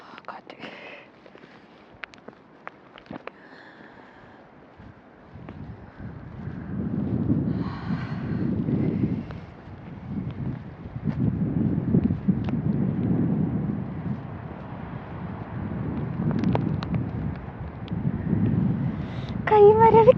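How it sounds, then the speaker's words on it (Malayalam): Strong wind gusts across an open hilltop summit in cold conditions, roaring in repeated low rushing waves that buffet the microphone, growing louder toward the end, with faint whispery sounds early on. "കാറ്റ്."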